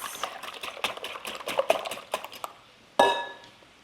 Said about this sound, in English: Give those a quick whisk.